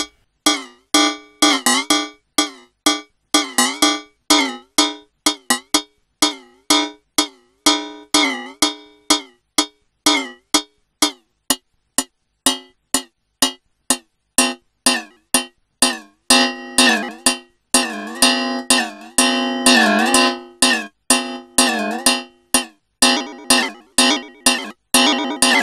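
A WMD Crucible cymbal module fires rapid, metallic, clangy industrial hits in irregular bursts, with short bright decays and some denser clusters. The sound is loud and sits alone with no voice.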